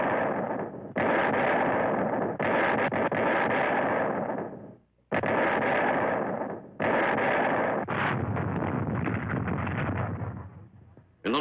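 American artillery fires on D-Day during the Normandy landings, heard as long, loud, rough blasts of rumbling noise in several bursts separated by brief gaps, with an old, coarse film-soundtrack quality.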